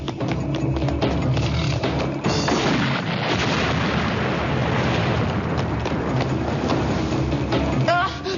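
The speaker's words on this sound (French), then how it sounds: "Le mélange des produits chimiques et de l'électricité risque de causer une explosion" A loud, sustained rumbling roar like a large explosion, with dense crackling debris noise that stays heavy throughout.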